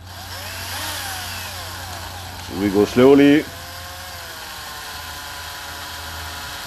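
An electric drill spins a motorized skateboard wheel fitted with two bearings and hanging weights, running slowly with a steady low motor hum while someone talks over it, with a brief louder burst partway through.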